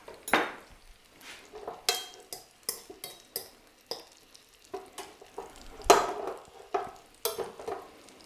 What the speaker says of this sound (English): the steak doesn't take very long at all to cook